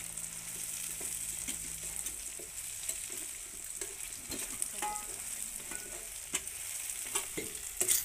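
Duck meat and onions fry in a pan, a continuous close sizzle broken by repeated scraping and stirring clicks throughout.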